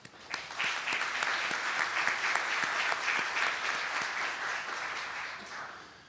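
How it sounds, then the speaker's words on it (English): A conference audience applauds at a business partners event, a dense, steady wash of clapping that swells quickly and holds for several seconds before tapering slightly at the end. "Let's give them a round of applause."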